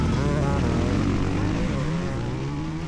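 Chinese MX450 dirt bike racing up a hill during a motocross race, engine roaring loud and steady at high revs, dense mechanical drone with a slowly shifting pitch across the whole stretch.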